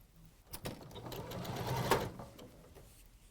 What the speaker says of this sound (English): She's going to sew it, Elliot, so don't worry about square it up.